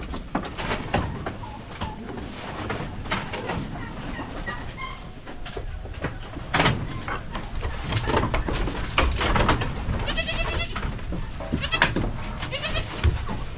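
Goats on a small Philippine backyard farm bleat repeatedly amid busy outdoor background noise, with a few bright, loud calls standing out near the end.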